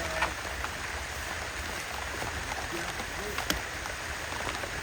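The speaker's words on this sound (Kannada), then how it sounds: "ಸೋನೆ ಮಳೆ ಬರ್ತಾ ಇದೆ, ಒಳ್ಳೆ ಮಳೆ ಫ್ರೆಂಡ್ಸ್" Light drizzle falling steadily outdoors in a village at midday, a soft even patter filling the background at low level with a few faint scattered drops and no talk.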